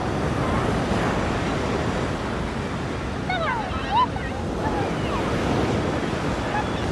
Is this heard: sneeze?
no